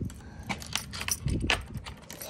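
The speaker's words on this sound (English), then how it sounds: "So we're just gonna drop some keys" A bunch of keys jingles and clatters as it is dropped, a light metallic rattle of a few brief scattered hits close by over a quiet background.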